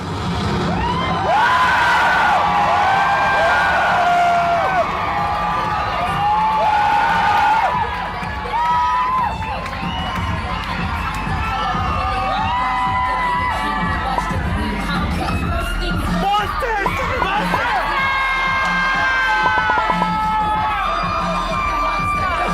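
A drag show crowd in Australia cheers, whoops and screams over loud lip-sync music, the shouting rising in bursts and staying dense and close throughout.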